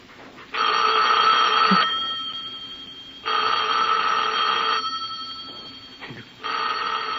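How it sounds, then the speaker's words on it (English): An old-fashioned telephone bell rings loud and close in two long bursts of about a second and a half each, with a pause between and a third ring starting at the end; no one speaks. "You better answer the phone."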